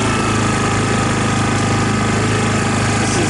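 A Kawasaki Lakota ATV engine with an ignition fault runs loud and close, its rough, rapid pulsing chatter stumbling unevenly throughout.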